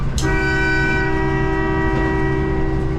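A train passes through a station: a long, loud horn blast begins moments in and holds over the rumble of the moving train, with no talk.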